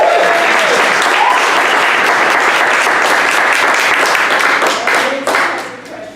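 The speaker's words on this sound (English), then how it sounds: "So give them rounds of applause." A lobbying-event audience gives loud, dense applause that holds steady and then thins and fades out, with a few scattered claps at the end.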